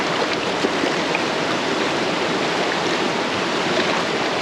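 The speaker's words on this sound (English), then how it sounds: "Let's look at the river." River water flowing steadily, a constant broadband rush and burble heard close and loud with no voices over it.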